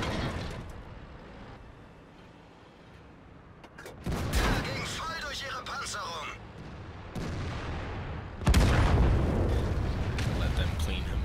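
Tank cannon fire from a Maus heavy tank battle in World of Tanks on the Kharkov map, with heavy booming blasts and rumbling explosions amid battle noise, with someone talking over the action.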